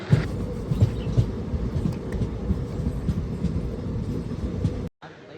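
A train rumbles along near Sakleshpur railway station with a steady low roar and faint rhythmic clatter, then the sound cuts off abruptly near the end.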